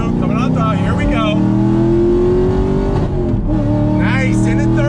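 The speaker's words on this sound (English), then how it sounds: "Rolling on throttle, being smooth, coming on throttle, here we go." Chevrolet Camaro SS 1LE V8 on a race track, engine note climbing steadily under hard acceleration, loud and close with a brief dip around a gear change before pulling again; someone talks over the engine throughout.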